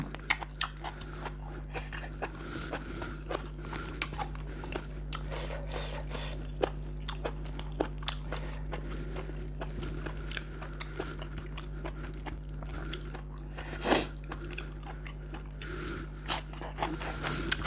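Close-up crunchy chewing and biting of blanched beef tripe and seafood with blanched vegetables, repeated crunches continuing steadily, with a low hum in the background.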